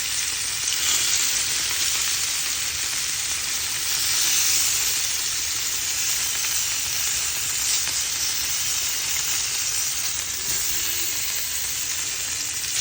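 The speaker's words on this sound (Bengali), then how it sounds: "এখন আমি একটু পরিমাণ মতো তেল দিয়ে দিচ্ছি কড়াইতে, এটা ভেজে নিব।" Spiced potatoes fry in hot oil in a wok, giving a loud, continuous sizzling hiss with dense crackle that holds steady from start to end, close and unbroken, with no one speaking.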